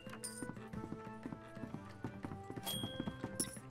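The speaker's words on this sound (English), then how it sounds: "I hear footsteps" Footsteps in the puppet-defending indie game Ruben's Puppets land as an even, repeated clopping tread, moderately close, over soft tonal game music with a few bright chimes.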